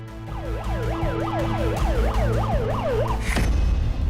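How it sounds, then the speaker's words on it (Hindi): An ambulance siren wails in a steady repeating up-and-down sweep, loud and close, stuck in a traffic jam on a road blocked by protesting farmers at a Delhi border, with traffic rumble beneath it. "कुछ देर तक एम्बुलेंस का सायरन सड़क पर बैठे किसानों के कानों में गूंजता रहा।"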